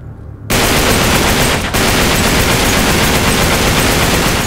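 Sustained automatic gunfire roars through a firefight in Uncharted 3: Drake's Deception Remastered, loud and dense from just after the start to the end, with one brief dip in the middle.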